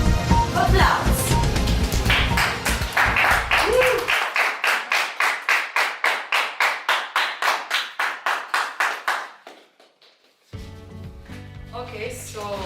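Audience applause at a youth environmental podcast discussion, starting as a dense burst of many hands, then thinning into slow, rhythmic unison clapping that fades out before talk resumes.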